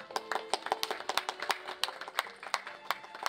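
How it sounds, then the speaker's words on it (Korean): A small crowd claps at a ribbon-cutting ceremony opening the Seo Yu-gu memorial library, with scattered, distinct hand claps at close range forming an uneven, sparse round of applause. "박수로 환영해 주시기 바랍니다."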